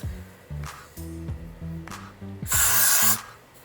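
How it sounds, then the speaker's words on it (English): A short, sharp burst of aerosol hair spray hisses onto a lace front wig hairline near the end, following a stretch of soft handling noises and a low droning tone. "I'm gonna spray this on the hairline."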